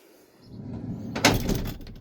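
A folding door fitted with a mosquito screen is moved in a living-room setting, with a near sliding rumble and a sharper rattling clatter midway through, heard alone with no talk.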